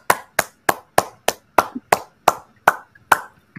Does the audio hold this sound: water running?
no